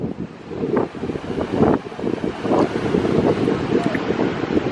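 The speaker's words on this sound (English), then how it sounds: "It's amazing outside, but it's so windy and so cold." Strong, cold wind at a beach in the Western Cape, South Africa, buffets the microphone in gusts, with a low roar like surf beneath and faint voices now and then.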